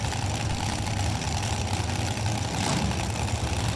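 A dragster engine idling at Kil-Kare Dragway drag strip, a loud continuous low rumbling drone with steady throb, close and unbroken, with no talk.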